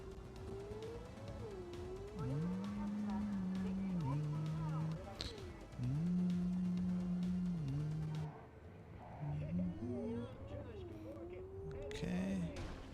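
A car engine in Cyberpunk 2077 revs and shifts, its pitch rising and falling through gear changes, steady and fairly loud beneath someone talking.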